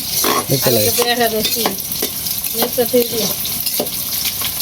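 Onion, garlic, cinnamon and spice paste frying in a pan, loud close sizzling with repeated stirring scrapes, and brief tonal squeaks or voices breaking through now and then.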